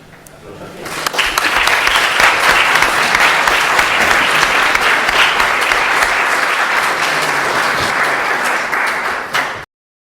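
Loud, sustained audience applause at a public-water rights event, swelling quickly after a quieter moment, holding as a dense crowd clatter for several seconds, then cutting off abruptly.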